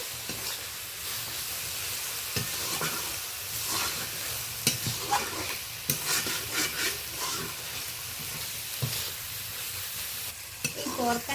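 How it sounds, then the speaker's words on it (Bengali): Ground cumin and coriander powder stir and sizzle in a pan, a steady soft frying hiss with scraping strokes of a spoon and occasional light clicks against the pan, no talking. "সমস্ত মশলাগুলো হালকাভাবে একটু মিশিয়ে নেবো এইভাবে"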